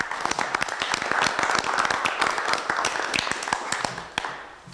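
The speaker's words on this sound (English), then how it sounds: "We'll take some applause." Applause at a council meeting honouring a retiring staff member, a dense patter of many hands clapping at moderate loudness for several seconds before tapering off, with no speech over it.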